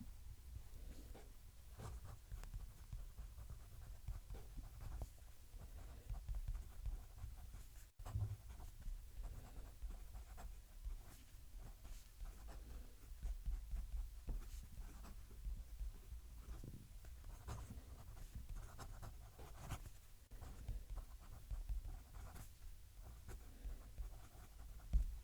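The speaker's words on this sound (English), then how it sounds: "move the mic down to the paper so you can hear the pen writing" Fountain pen, a Narwhal Nautilus, scratching steadily across textured paper with the mic held close, a soft continuous scritch of strokes and pauses with no talking.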